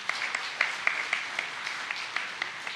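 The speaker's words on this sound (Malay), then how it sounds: "tepukan juga untuk mereka." Audience applause at a higher-education ministry New Year address, a thin scattering of claps with a few sharper individual hits, faint and fairly distant, no talk over it.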